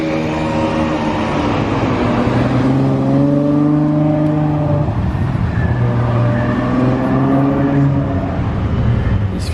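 A McLaren 720S Spider drives past with a deep, droning engine note, rising and swelling twice with harmonic whine as it revs, loud and close against a busy street background.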